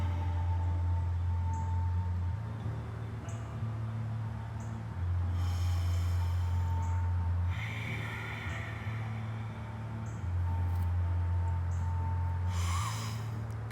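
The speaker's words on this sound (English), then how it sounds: "Big deep breath in, and then exhale" A deep breath drawn in and let out during a hip flexor yoga stretch on a mat: two loud, breathy rushes, one midway and one near the end, over a steady low hum.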